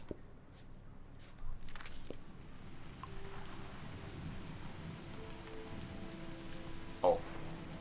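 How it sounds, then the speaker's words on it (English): Steady rain falls in Season: A Letter to the Future, a constant soft patter that runs through the whole stretch, with a brief louder splash or step near the end. "Let everybody know when they read this journal that it was bloody raining as always."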